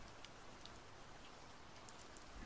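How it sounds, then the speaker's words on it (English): Steady rain falling, a soft even patter with faint scattered drop ticks, continuous and close for the whole stretch with no voices. "Feeling the calm of the rain."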